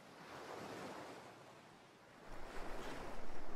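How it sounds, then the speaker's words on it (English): Waves wash onto a beach in a Kirby video game, with a soft continuous surf hiss that swells louder and rougher toward the end, heard alone without talk. "Look, we're at a beach!"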